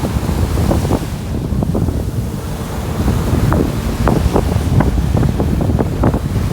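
Surf breaking along Miami North Beach, rolling waves crashing in a steady roar with repeated bursts, wind buffeting the microphone throughout; no one speaks.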